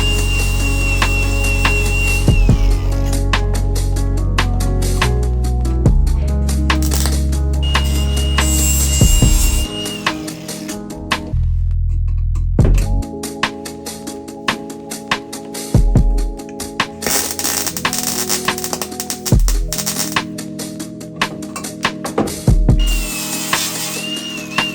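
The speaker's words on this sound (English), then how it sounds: "So I just need to grind down a little bit on this bar so that I can get to a nice ground" A grinder works down a metal bar for a seat ground in a Porsche project car, loud and close with a steady harsh whine, briefly stopping midway before grinding resumes in bursts.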